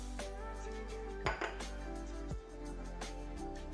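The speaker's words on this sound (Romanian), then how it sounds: "Într-un alt bol amestecăm 100 grame unt la temperatura camerei, cu 4 linguri de cacao" Metal utensil scraping and clinking against a bowl while room-temperature butter is mixed with cocoa powder for German rum truffles, several distinct knocks over a steady background hum, close and fairly loud.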